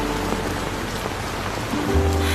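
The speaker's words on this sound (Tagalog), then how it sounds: "Oo, umuulan." Steady rain pours down outdoors at night, a dense, even hiss of drops on hard surfaces, loud and close, with a low hum rising underneath toward the end.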